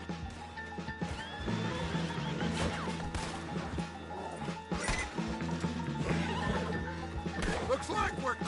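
Horse neighing in Red Dead Redemption 2, several whinnies over a busy game soundscape with hoof clip-clop and background clatter, voices talking throughout.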